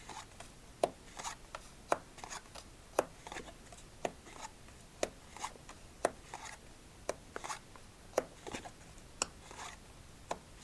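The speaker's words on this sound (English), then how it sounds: "I'll shut up and deal the cards" Altezza deck playing cards dealt for a game of solitaire, a steady run of crisp snaps and slides spaced about half a second apart, close and quiet with no talking.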